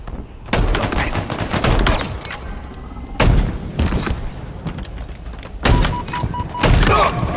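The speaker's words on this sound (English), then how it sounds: "Tossing a nade." Grenade toss and explosion in the video game Halo Infinite amid loud gunfire, with several heavy booming bursts and rapid shots across the scene.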